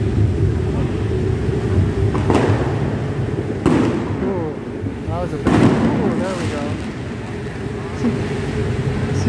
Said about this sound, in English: All they're doing is tossing out fireworks, as you can see.